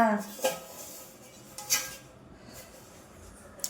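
A few metallic clanks and scrapes as a large, heavy metal uruli cooking vessel is handled, separated by quiet pauses.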